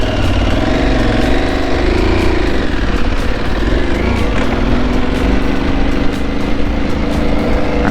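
Yamaha Ténéré 700 motorcycle engine ridden off-road with traction control switched off, a loud, close, continuous engine drone with rising and falling throttle pitch throughout, no talk.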